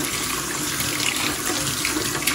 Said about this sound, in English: So at first I'm going to get some warm water started.